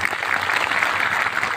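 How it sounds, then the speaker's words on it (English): A school crowd at the opening ceremony of an annual sports meet gives a big, dense burst of applause, steady and loud throughout without a break. "Big clap."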